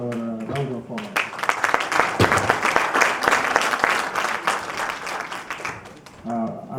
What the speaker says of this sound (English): Please give the presenters our round of applause.